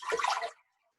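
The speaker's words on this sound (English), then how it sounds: "I'm going to pour 5 cups of cold water" Cold water poured into a big bowl while making homemade yogurt, a close, bright splashing gush lasting about half a second before cutting off to silence.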